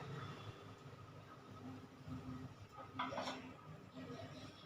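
A metal cake mould is lowered into a preheated pressure cooker, producing faint metallic clinks and a brief scrape near the end against a quiet kitchen background.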